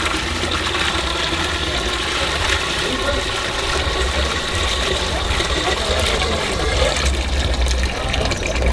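Water drains from a basin in a swirling whirlpool, giving a steady, loud, close gurgling rush that runs unbroken throughout.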